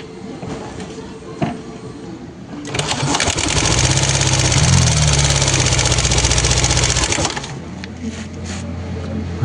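A Yamaha Aerox scooter engine starts and idles loudly with a fast, even tapping like a sewing machine for several seconds, then cuts back to quieter background noise.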